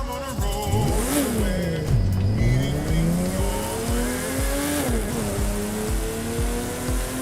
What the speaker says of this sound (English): Yeah, engine sounds pretty good.